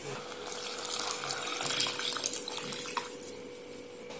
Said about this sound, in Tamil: இப்ப தண்ணியை ஊத்திக்கலாம்.